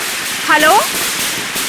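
Firecrackers go off during a festive scene in a CID crime drama episode, with sharp cracks and pops under a voice.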